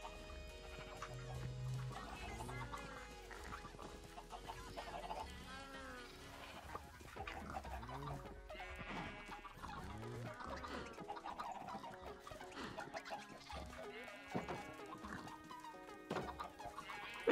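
Chickens in the video game Minecraft cluck repeatedly in short scattered bursts over about seventeen seconds, fairly quiet, mixed with other game sounds and no clear talk.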